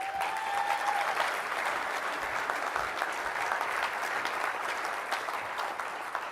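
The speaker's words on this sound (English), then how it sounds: "Please give her a round of applause, would you please?" Sustained applause from an audience at a US military awards ceremony for the 2013 Audie Murphy Award, steady dense clapping filling the room for several seconds as an award presenter comes on stage.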